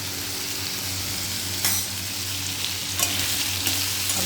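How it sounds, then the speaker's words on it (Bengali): Potatoes fry with a pinch of turmeric powder in a pan, giving a steady, close sizzle with faint stirring clicks and no voices. "আলুটা দিয়ে ভাজতে দেবো"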